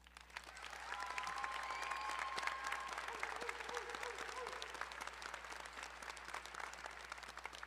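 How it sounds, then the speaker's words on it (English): Steady audience applause at an adult education graduation ceremony, a dense wash of many hands clapping that swells and holds for several seconds. "I hope you give Cassandra an extra big applause."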